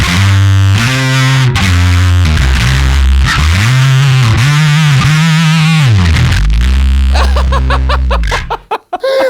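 Bass guitar driven through a JACKAL MIDNIGHT high-gain distortion pedal, loud, thick and destructive with a fuzzy, synth-like edge, sustained notes and chord changes throughout before cutting off near the end.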